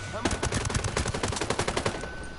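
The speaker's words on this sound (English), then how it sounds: "Light those suckers up. This is that Beretta ARX." A Beretta ARX rifle fires in Ghost Recon as a rapid, loud automatic burst of closely spaced shots that runs without a break.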